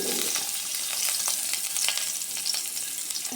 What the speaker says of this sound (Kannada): ಅದೇ ಪ್ಯಾನಿಗೆ ಸ್ವಲ್ಪ ಎಣ್ಣೆ ಹಾಕಿ ಇವಾಗ ಅಲಸಂದೆನ ಬೇಯಲಿಕ್ಕೆ ಇಡುವ